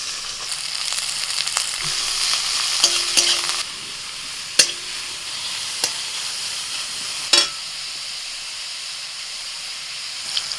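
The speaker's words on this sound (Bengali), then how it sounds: "এবার দিয়ে দিচ্ছি পেঁয়াজ কুচি" Chopped onion frying in hot oil, a loud steady sizzle with scraping stirs and a few sharp clacks of a spatula against the pan, no voices.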